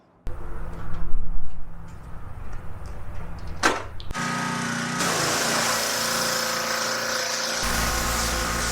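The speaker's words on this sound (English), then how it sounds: "I'm going to hit it with the power washer" A power washer spraying a stolen motorcycle to clean off damage, starting with scattered clatter and a brief whoosh before a loud, steady broadband hiss of the high-pressure jet runs continuously to the end.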